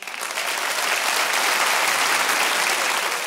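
An audience of couples at a stand-up comedy show claps in response to the comedian, a sustained wash of applause that swells slightly and holds steady for a few seconds.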